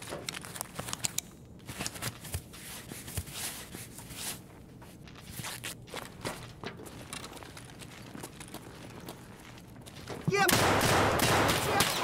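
Rapid gunfire in a factory horde-mode shooter game, with irregular bursts of shots and clattering impacts through most of the stretch and a louder sustained burst near the end, with voices talking in between.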